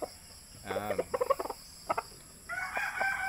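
A six-month-old stag rooster crows nearby in a loud, rising, multi-part call, followed by shorter clucks and a second, sustained crow, with no talking.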